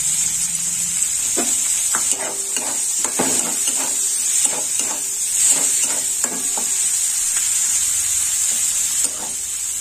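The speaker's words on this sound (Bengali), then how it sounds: "পেঁয়াজটা একটু লাল লাল ভাজা হোক" Chopped onions fry in a pan with a constant, close sizzle, punctuated by repeated scraping and stirring knocks of a utensil for most of the ten seconds, with no talking.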